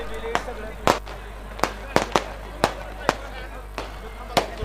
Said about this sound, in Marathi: स्टेजच्या समोर फटाका वाजवणाऱ्यांना विनंती आहे की आपण फटाका थोड्याशा लांब अंतरावर वाजवायचे